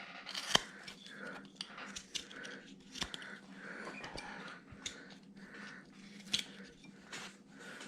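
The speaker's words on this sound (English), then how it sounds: "You gotta be holding the carving with your hand and cutting with the other" A knife cuts into a hand-held wood carving of Santa, with short crisp slicing and scraping strokes at an irregular pace, close up and fairly quiet.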